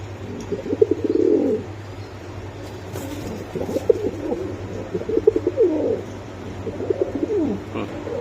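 Farm pigeons, among them Budapest, Damascene, racer, Danish and Bombay breeds, give repeated close, soft coos in short rolling phrases, with faint background murmur.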